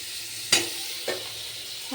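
Food frying in an iron kadai while khichuri cooks nearby, a soft steady sizzle broken by two or three short stirring scrapes.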